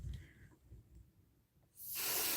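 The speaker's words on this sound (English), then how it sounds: "I'm just going to spray a little bit" A spray bottle mists water onto a small knitted sweater piece for blocking, a short soft hiss at first, then a loud, sustained spray burst near the end.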